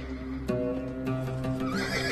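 Georgian horsemen's horse whinnies loudly, a drawn-out neigh ringing over a steady bed of background sound, with hoofbeats faintly clopping alongside.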